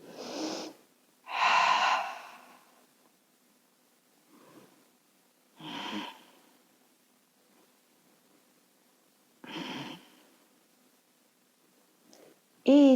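Slow, deep breaths during a wrist and ankle stretch, about four separate long exhalations spaced several seconds apart with quiet gaps between, close to the microphone.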